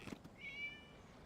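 A short, faint cat meow in a video game, rising briefly and fading, heard alone against quiet background.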